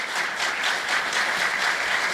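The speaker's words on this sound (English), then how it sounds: "Let's give them a big round of applause." A conference audience applauds a panel at an annual economic forecast event, steady dense clapping filling the room throughout without pause, loud and close.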